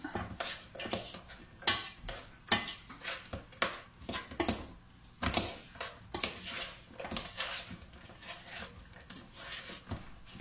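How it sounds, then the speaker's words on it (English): Meal ingredients being stirred and mixed together in a bowl, with close, repeated scraping and clattering strokes in an uneven rhythm and no talking. "And then you just mix it So you have everything mixed together pretty decent."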